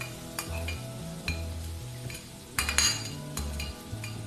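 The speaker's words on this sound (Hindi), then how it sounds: "अब इस प्याज को हम इसमें डाल देंगे" Onion sizzles in a chicken karahi pan while a utensil stirs and clinks against the metal, with soft tonal music playing steadily underneath.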